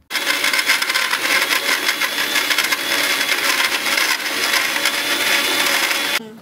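Mixer grinder blending milk, a loud continuous motorized whirring with rattling that starts abruptly and runs steadily for several seconds before cutting off.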